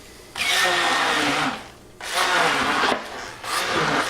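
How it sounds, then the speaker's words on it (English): An immersion blender mashing ripe bananas, whirring loudly in three bursts with short pauses between them, each with a gritty, churning tone, and no talking. "These immersion blenders are just wonderful. Kind of liquefy those nanners"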